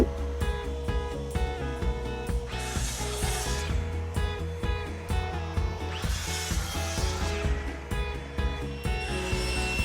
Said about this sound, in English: I took the material over to my miter saw